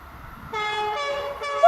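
A new Amtrak Acela trainset sounds its horn while passing, a loud sustained multi-tone chord that steps up in pitch and swells again near the end over faint rail rumble.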